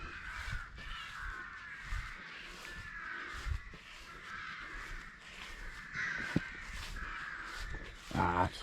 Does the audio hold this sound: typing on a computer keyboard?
no